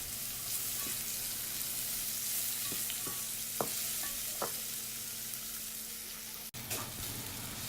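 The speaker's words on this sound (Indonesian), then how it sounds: "bawangnya kita tumis sampai layu ya" Sliced ginger and onion sauté in a hot pan for a fish soup, a steady sizzle running throughout with occasional stirring clicks and scrapes and a single sharp knock near the end; nobody speaks.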